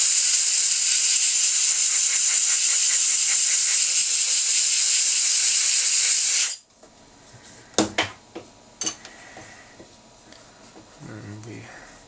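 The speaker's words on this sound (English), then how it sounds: "we can accelerate it with some compressed air" A steady loud hiss of compressed air blows on dental wax for a custom implant post for about six seconds, then cuts off, leaving quiet clicks and light handling sounds.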